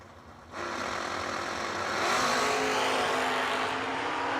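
A Camaro drag race car at a bracket nationals event roars up loud and close after a brief quieter lead-in, its engine noise building and holding steady as a broad, sustained blast.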